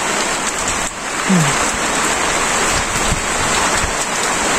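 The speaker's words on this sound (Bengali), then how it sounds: "রোদও বৃষ্টিও পড়তেছে" Steady rain pours down in a dense, even hiss during a rice paddy harvest in a Bangladeshi village, with sunshine, occasional louder drops and thumps, no voices heard.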